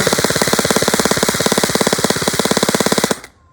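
Rapid bursts from a SCAR-L style BB gun fitted with a suppressor, a steady mechanical stream of evenly spaced shots for about three seconds, loud and close, then cutting off.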